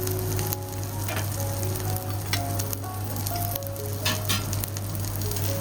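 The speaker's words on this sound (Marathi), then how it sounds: "एक साईडला फ्राय होतेच आहे आता" A veg cheese frankie wrap fries on a hot tawa, crisping up with a loud, steady sizzle that runs unbroken throughout, with faint clinks of cooking now and then.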